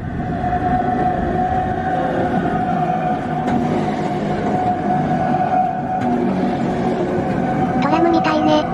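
A rack railway train on the Appenzell Railway in Switzerland rumbles past with a steady mechanical drone and a whining tone, faint clanks and squeals rising toward the end.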